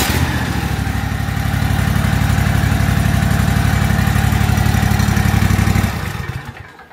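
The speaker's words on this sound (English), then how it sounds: "Now this one, I went ahead and cranked it over, just so you know, and here we go." A Toro zero-turn riding mower with a fault that lets it run only on choke starts its small engine and runs at a steady idle. The near, loud, even chugging holds for about six seconds, then dies away.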